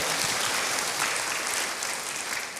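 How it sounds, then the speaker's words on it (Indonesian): A church congregation claps and applauds during a worship service, a dense, steady wash of clapping that fades slightly toward the end. "Berikan tepuk tangan bagi Tuhan."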